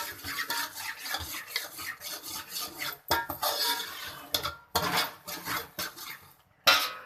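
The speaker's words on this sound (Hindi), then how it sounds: "अब हमने डाल दी है सूजी। और अब हमने इसको जो कुक करना है वो करना है मीडियम फ्लेम पर।" Semolina being cooked in sugar syrup in a pot over a medium flame for halwa, with a spoon scraping, stirring and clinking against the pot in irregular bursts, fairly close, with brief pauses and no talk.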